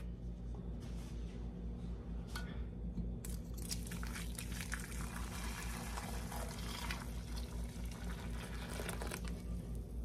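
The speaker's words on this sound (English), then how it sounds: "Okay, let's strain this off." Cooked corn liquid strained for jelly, a soft continuous trickle and drip of liquid through a strainer with a few sharper splashes and clinks of kitchen equipment under a low steady hum.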